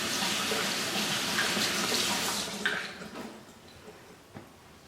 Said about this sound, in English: I'm just going to give my hands a quick wash